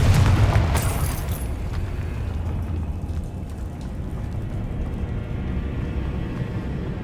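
A Confringo blasting spell goes off in Hogwarts Legacy with a loud, deep explosion at the start whose rumbling tail fades into low ambient noise.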